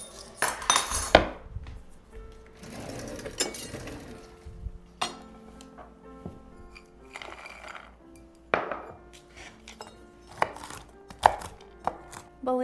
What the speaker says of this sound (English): So we're just gonna do pecans, and I think I might actually cut those up